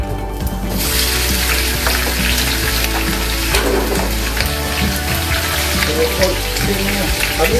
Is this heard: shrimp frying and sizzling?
yes